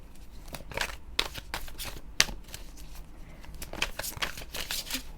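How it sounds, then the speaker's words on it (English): A deck of oracle cards being shuffled by hand, a run of crisp riffling and flicking bursts at an uneven pace, close and fairly quiet with no talk. "Shuffle with intention."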